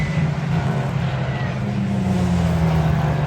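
Race cars pass at Oulton Park circuit during a CSCC event, giving a steady, loud engine drone with a slowly falling pitch as they run by at a distance. No talking is heard.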